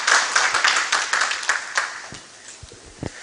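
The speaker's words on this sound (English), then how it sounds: "A round of applause from Doc." Clapping for a keynote speaker at a cyber security knowledge forum, loud bright applause from a modest crowd that thins and fades, leaving a few scattered, closer claps and faint thumps near the end.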